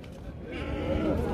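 Sheep bleat at a busy Eid al-Adha livestock market in Fez, Morocco, with short calls rising over a crowded background of people talking nearby.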